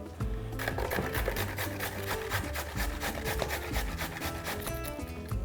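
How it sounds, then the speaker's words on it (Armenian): A medium carrot is rubbed across the large holes of a hand grater in quick, even, rasping strokes, close and steady from start to finish, with no voices over it. "Անմիջապես քերում ենք նաև 1 միջին գազար, սա էլ քերենք մեծ անցքերով։"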